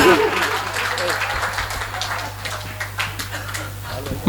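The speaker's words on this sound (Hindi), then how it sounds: "तालियां जरा जोरदार पीछे तक आनंद के साथ बजाइए" A comedy show audience claps along for a poet comedian, a dense continuous patter of applause under a steady low hum, with talk audible over it.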